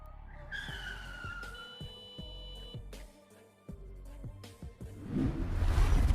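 A vehicle brakes hard and its tires squeal in a short, sharp skid, followed by a few knocking thuds and a swelling rumble of traffic.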